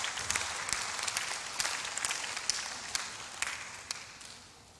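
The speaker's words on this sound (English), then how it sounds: "Please, let's applaud her as she comes." Scattered, fairly faint applause from an audience at a closing and awards ceremony, with sparse individual claps standing out over a soft wash of clapping.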